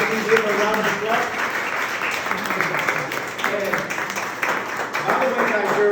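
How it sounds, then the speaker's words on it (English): An audience applauds steadily at a business talk, dense continuous clapping that holds for several seconds at an even level, loud and close, with crowd noise mixed in and no clear speech. "thank you once again for the opportunity to give a round of applause"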